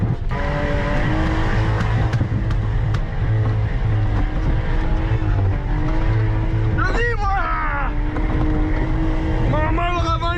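A car engine running loud and close while the car is driven and the clutch is engaged, a steady drone with rising revs and whining pitch sweeps near the end, someone talking over it.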